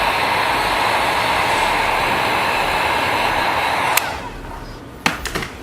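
A heat gun blows a steady, loud broadband whoosh across a chrome delete wrap on a 2014-2020 Lexus IS side trim for about four seconds, then cuts off, leaving a few faint clicks and handling noises.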